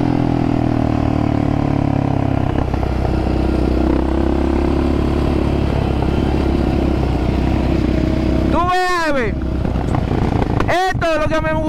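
Several ATV quad bike engines run and rev loudly and continuously close by, with sharp rising revs near the end.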